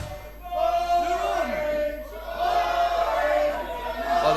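A wrestling crowd at a six-man tag match jeers and shouts loudly, a sustained roar of many voices with rising boos and yells, while a voice speaks over it.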